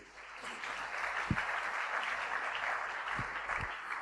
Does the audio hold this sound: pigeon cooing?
no